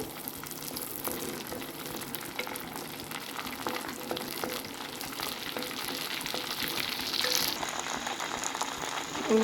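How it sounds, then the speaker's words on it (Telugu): Green chillies and curry leaves fry in hot oil, giving a steady, close crackling sizzle with small pops that grows a little busier toward the end. "ఇప్పుడు నూనె కొద్దిగా వేడెక్కాక పచ్చిమిరపకాయలు అలాగే కరివేపాకు వేసుకుని ఒక థర్టీ సెకండ్స్ పాటు వేయించుకున్నాం దోరగా"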